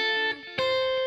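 Guitar sweep across an arpeggio with neighbor tones around the root, played through effects with a jazzy character; a sustained, ringing chord tone with a brief dip then a fresh attack, close and alone.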